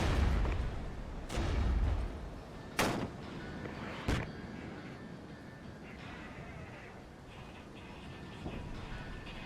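Artillery firing in the strategy game Regiments: a few heavy, sharp booms spaced a second or so apart over a dense, rumbling battlefield background that continues at a steady level.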